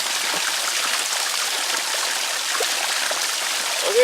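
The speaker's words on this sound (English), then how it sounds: "this is a spring water. It flows like that year round" Spring water flows steadily out of the ground in a continuous close burbling and trickling rush, even in level from start to finish, with no voices.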